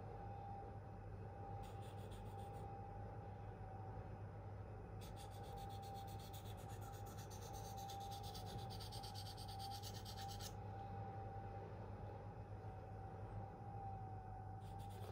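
A Spyderco Endura K390 steel knife blade is stroked across a 1200 grit sharpening stone, giving a steady rasping rub with bursts of brighter scraping strokes over a constant low hum.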